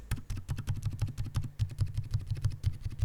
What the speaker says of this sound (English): let's click on it